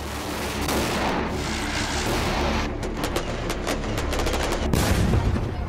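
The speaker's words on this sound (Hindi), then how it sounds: "पटाखों जैसी आवाज तो आएगी लेकिन बिना किसी प्रदूषण के।" Rapid crackling bangs from a pollution-free firecracker substitute used for Diwali, a dense run of sharp cracks that quickens into a fast burst of pops near the end, loud and close with no talking.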